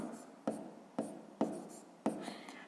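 Chalk taps and scratches on a board as a fifth-grade math problem is written out, with four distinct close strokes each starting in a sharp tap and trailing off in a scrape.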